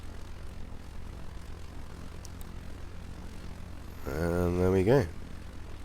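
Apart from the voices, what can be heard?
UAV drone taking off in video game Arma 3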